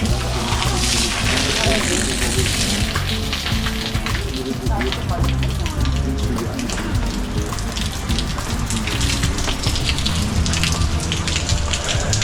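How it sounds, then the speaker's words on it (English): Steady heavy rain pattering on surfaces nearby in an Istrian town in Croatia, a dense continuous hiss with scattered drips, and voices murmuring faintly beneath it. "And it's still raining."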